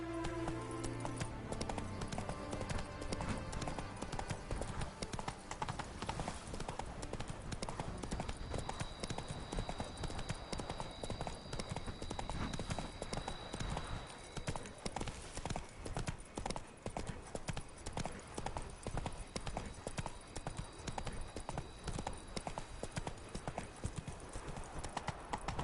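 Roach the horse's hooves clip-clopping steadily through The Witcher 3: Wild Hunt during the Toussaint knights' tournament, a dense continuous rhythm of hoof strikes over game ambience and music, with a brief whinny and faint voices.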